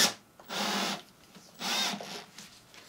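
A power drill fitted with a cheap Amazon drill attachment, apparently for driving screws quickly, whirs in two short bursts of about half a second each, separated by a pause and followed by faint handling noise.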